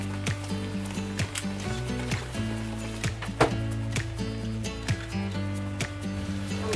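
A washing machine runs through a load of clothes with a low mechanical hum. The hum shifts in steps under repeated ratcheting clicks and soft thumps, close by and moderately loud.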